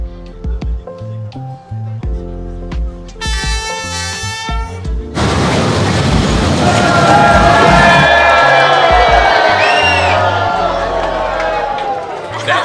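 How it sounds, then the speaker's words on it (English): A loud crowd shouts and cheers as a train rolls through a narrow street in Hanoi, Vietnam, with people close to the tracks, voices rising into a dense, sustained roar after a horn-like blast. "now they're screaming at everybody to get back because the train's coming through"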